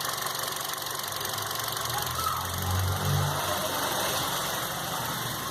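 Idling VW Gol G6 engine with a misfire, a steady rough hum with uneven knocking pulses and a brief stumble midway, loud and close in a workshop while a cylinder's ignition coil is being tested.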